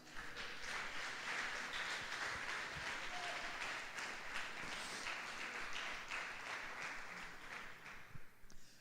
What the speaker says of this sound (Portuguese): Você pode aplaudir ele por isso?